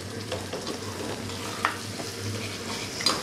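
Ingredients sauté in a pan, with a steady close sizzle and a few sharp scraping clicks of stirring over about three seconds, with no voices.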